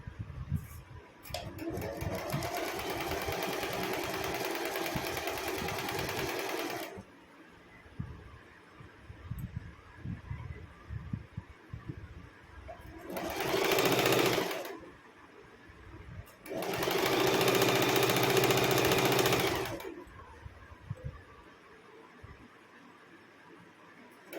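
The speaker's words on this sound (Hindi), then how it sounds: "इसको हम ऐसे सिलना शुरू कर देते हैं।" Sewing machine stitching kurti fabric runs in long steady bursts of rapid mechanical whirring and ticking, close and loud, with pauses between runs and faint room noise in the gaps.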